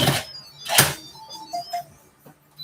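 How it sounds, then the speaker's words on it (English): A mobile phone rings in a home kitchen while dinner is being cooked, giving a short, bright electronic tone burst followed by a few softer tonal beeps, close and fairly clear, with no talking. "And now my phone's going to go off."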